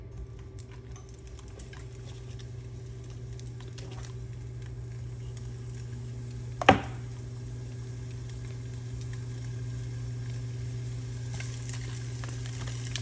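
Mild pork sausage with its casing removed sizzles steadily in a pan, a soft even frying hiss with one sharp clink partway through, no voices over it.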